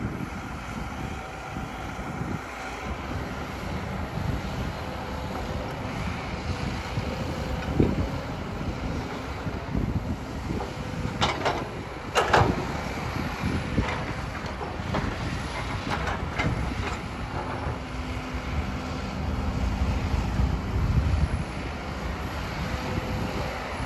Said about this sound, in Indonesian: Karena anginnya di sini tuh kencang